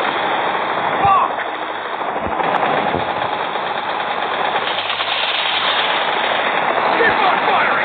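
Gunfire in the mobile shooter Modern Combat 5, set in Venice: dense, continuous rattling automatic fire with heavy thuds, loud and close throughout, with voices mixed in.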